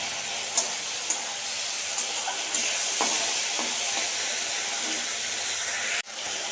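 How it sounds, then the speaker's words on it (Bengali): Prawns frying in a pan give off a steady, close sizzling hiss that runs throughout, with a few small pops and clicks and a brief sharp knock near the end. "এখানে চিংড়ি মাছ ভাজা চাপিয়ে দিয়েছি"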